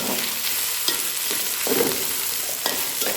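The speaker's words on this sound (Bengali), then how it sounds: "একটু তেলের মধ্যে ভাজা ভাজা করে এখানে আমি পানি দিয়ে দিই" Ginger paste frying in hot oil for a spicy goat curry, giving a dense, continuous sizzle with a few sharp spatters and stirring clicks, close and fairly loud throughout, with no talking.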